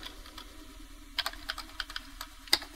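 Typing on a computer keyboard while writing a C++ program, a quiet run of light key clicks building to a sharper burst of taps, with no talking over it.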